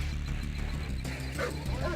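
In the Red Alert video game, an attack dog barks and yips in quick bursts over a steady low game hum, a little softer than the surrounding game sounds.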